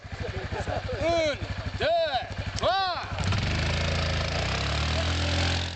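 A quad bike engine putters at idle with a steady low chug, then revs into a louder, smoother drone, while voices shout and whoop over it.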